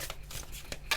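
A deck of oracle cards is shuffled by hand, giving quick, crisp papery slaps and rustles in a short burst of several close, soft clicks.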